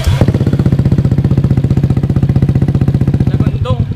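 A motorcycle fitted with an aftermarket M4 exhaust pipe idles loud and close for a sound check, a rapid even thumping pulse that cuts off sharply near the end.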